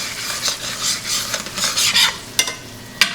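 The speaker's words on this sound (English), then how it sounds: "as that bourbon's working, it's going to take off that fond from the bottom of the pan" Bourbon hissing and bubbling in a hot pan while the fond is scraped from the bottom, rough stirring scrapes swelling and fading, with a couple of sharp utensil knocks near the end.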